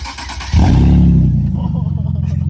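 A Nissan 370Z fitted with a cheap aftermarket custom exhaust rumbles into a deep, loud rev about half a second in, then settles to a steady, throaty idle.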